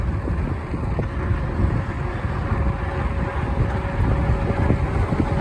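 Strong, steady wind roars against the microphone while riding an Ecotric fat tire e-bike in cold weather, a loud, continuous low buffeting rumble with no speech.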